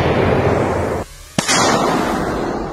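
A mortar fires a round with one sharp loud report near the middle, set against a steady roar of heavy background noise that briefly drops out just before the shot.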